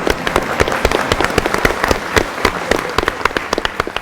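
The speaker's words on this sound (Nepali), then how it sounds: "ताली बजाइदिनुहोस्।" Studio audience applause on a televised quiz show, a burst of sharp scattered claps, fairly loud and close, with an irregular crackling rhythm over a few seconds.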